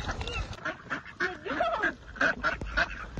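Ducks quacking during a duck hunt, a cluster of short, nasal calls repeating close by, fairly loud and uneven in rhythm with no talk over them.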